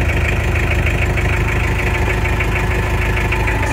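A cold ISEKI TA370 Japanese mini tractor engine idles steadily close by, a loud, even mechanical chug with a rapid regular knocking rhythm and no pauses.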